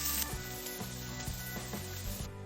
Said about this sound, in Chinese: 咱们先把刚刚切好的猪肉炒一下，锅里不需要放油。